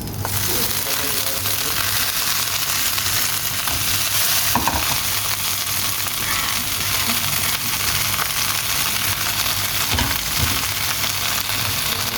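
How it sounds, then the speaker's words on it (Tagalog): Kangkong (water spinach) leaves and stems being stir-fried in a pan, a dense continuous sizzle with occasional stirring scrapes and clinks, steady and close. "Na stir fry ko na yung aking stock or yung tangkay. Lalagay ko ng aking kangkong."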